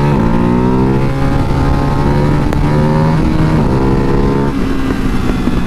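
A motorcycle engine runs loud and close in a continuous throaty drone, its pitch stepping up and down as it revs, with no talking.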